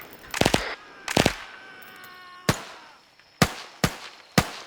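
Machine gun fire in a video game: two short automatic bursts ring out close and loud, followed by three separate sharp single shots, each decaying against a quiet background.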